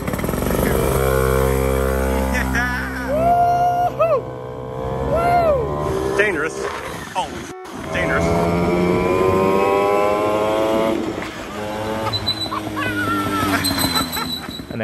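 Someone's motorcycle ridden on a joyride through city streets, engine revving and shifting with rising and falling pitch, loud and close, with a short break midway and a voice talking over parts of it.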